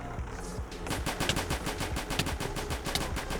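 Rapid automatic rifle gunfire from a video game NPC enemy, a fast unbroken stream of sharp shots at steady rhythm, loud and close.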